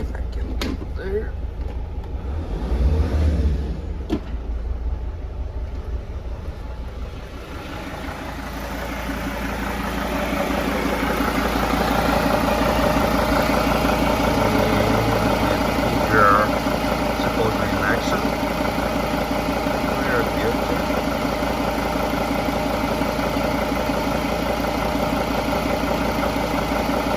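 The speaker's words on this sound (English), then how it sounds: "And now I will blip the throttle." A Mercedes T1N Sprinter van engine idles close by with a steady low rumble, which swells into a louder, fuller running note that then holds steady.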